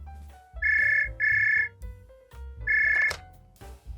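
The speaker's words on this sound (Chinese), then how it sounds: "收到了老板的电话" A phone ringtone plays three bright electronic bursts in a repeating pattern, close and loud, with faint background noise between rings.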